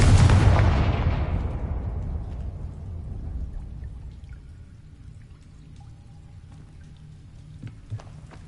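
A Confringo blasting spell goes off in Hogwarts Legacy, a single heavy explosive burst up front that rumbles and decays into a long fading tail of debris and ambience, no voices.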